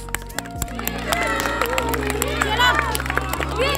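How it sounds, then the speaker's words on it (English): An audience cheering for the teams at a boys' competition, with a busy crowd murmur and scattered clapping. Voices and a loud speaker carry over the crowd throughout. "audience, please cheer up for your teams."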